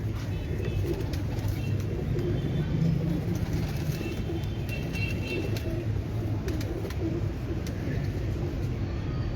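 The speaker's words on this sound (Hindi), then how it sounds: "ये नज्जे वाले कबूतर ही इस टाइम दिखा रहे हैं आपको" Breeder pigeons coo steadily from a rooftop in low, rolling calls, several birds overlapping continuously, with a faint hum of traffic in the background.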